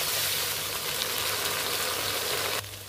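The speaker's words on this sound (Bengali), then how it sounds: "এই যে আদা বাটা দিয়ে এখন মশলার সাথে এই আলুগুলো সুন্দর করে আমি কষিয়ে নেব" Potatoes sautéing with spices and ginger paste in a pan make a loud, continuous close-up sizzle that cuts down abruptly just before the end.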